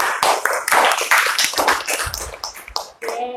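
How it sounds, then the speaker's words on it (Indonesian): A group of participants claps hands in a room, with sharp, scattered claps mixed with people talking throughout. "Teman-teman tepuk tangan dulu"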